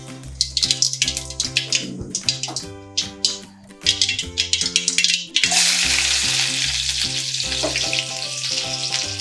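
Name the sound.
mustard seeds spluttering in hot oil for ginger-tamarind pickle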